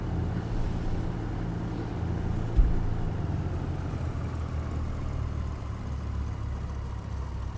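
A Duchess Model 76 light twin-engine plane idling in the X-Plane 11 flight simulator, a steady low engine rumble with a soft click partway through, no voices.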